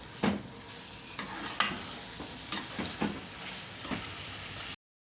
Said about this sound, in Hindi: अब मसाले के साथ इसकी करते हैं 3 से 4 मिनट भुनाई।